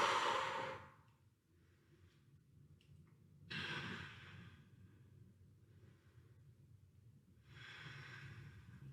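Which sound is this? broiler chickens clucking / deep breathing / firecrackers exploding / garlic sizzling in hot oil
deep breathing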